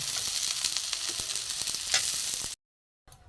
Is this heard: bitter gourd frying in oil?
yes